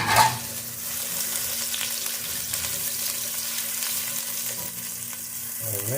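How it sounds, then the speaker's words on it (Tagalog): Banak sea mullet sautés with garlic in a hot pan, a steady close crackling sizzle with faint stirring scrapes throughout and a brief clatter at the very start. "We'll saute it until the fragrance will come out"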